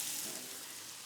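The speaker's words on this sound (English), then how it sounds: "Take your lemongrass, ginger, and garlic, and you're gonna throw it right in. And you wanna hear that sizzle." A steady, soft hiss of lemongrass, ginger and garlic frying in hot oil, continuous and fairly quiet, with no voices.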